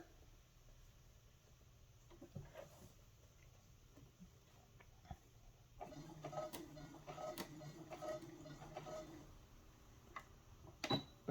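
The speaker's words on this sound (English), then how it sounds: "now we're sewing towards the corner, which is here." A sewing machine stitches bias tape onto a vest, its soft mechanical ticking growing into a faint, steady rattle partway through.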